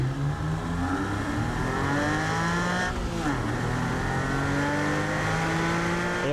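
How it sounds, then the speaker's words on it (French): A Porsche 911 cabriolet's flat-six engine revs and accelerates, its rising, harmonic-rich note climbing through gears with a brief dip and shift midway, heard up close and loud with the roof open. "On retrouve le bruit caractéristique du 6 cylindres à plat Porsche"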